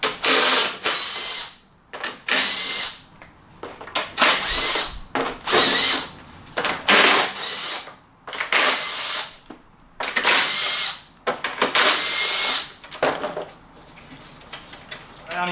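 A power tool, likely a drill or impact driver, removes six 10mm bolts from the engine plate of a Honda Ruckus with a GY6 swap, running in loud repeated bursts with short pauses between them.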